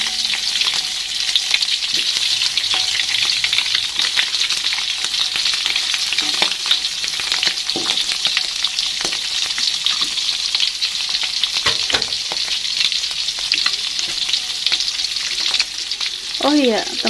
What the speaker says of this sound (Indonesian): Nah, ini sisanya saya goreng lagi ya.